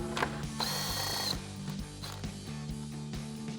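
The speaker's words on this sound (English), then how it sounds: "Now we can remove the lower two 10mm bolts holding our grill on with our 10mm socket." Power tool driving a 10mm socket to remove the lower grille bolts on a Ford F-150, a short close whirring burst followed by lighter ratcheting clicks and taps.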